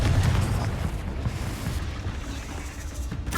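A Confringo explosion spell in Hogwarts Legacy bursts with a deep, rumbling boom that rolls on as a dense, roaring wash of debris and noise, loud and sustained for several seconds.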